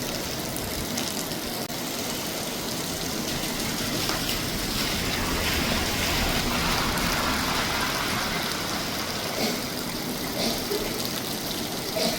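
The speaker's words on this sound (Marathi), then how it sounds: "ऐन हिवाळ्यामध्ये अचानक रात्री पाऊस कोसळत आहे" A steady, dense hiss of heavy night rain pours down without a break over farmland in Karjat during winter, with a low rumbling undertone beneath it.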